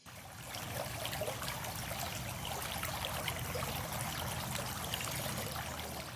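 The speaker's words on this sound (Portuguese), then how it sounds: "chegaram a uma nascente que havia lá embaixo entre avencas e samambaias" Spring water trickling down among maidenhair ferns and bracken at a hidden source below a large rock, a steady, soft continuous burble and gurgle with no voices over it.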